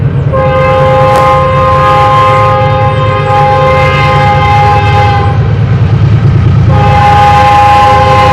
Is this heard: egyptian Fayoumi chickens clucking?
no